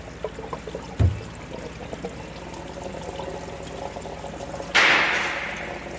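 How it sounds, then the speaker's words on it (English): Coolant from the water pump of a 2014 Chevy Malibu runs out in a steady, faint trickle, with a dull knock near the start and a louder splashing gush toward the end. "As I expected, coolant is pouring out of this water pump."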